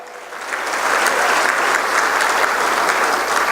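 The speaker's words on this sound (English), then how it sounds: "Give her a big round of applause" An audience breaks into warm, sustained applause that swells quickly and holds at full strength, many hands clapping together.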